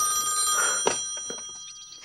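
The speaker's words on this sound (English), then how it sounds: "Wait, is that the phone?" A telephone rings with a bright, sustained electronic trill and a few sharp clicks partway through, heard close over a steady background.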